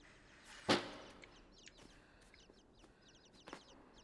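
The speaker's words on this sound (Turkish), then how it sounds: "Civciv sesleri." A single loud peep stands out early, followed by a scatter of faint, high chirping from small chicks in a quiet scene from the video game Inside.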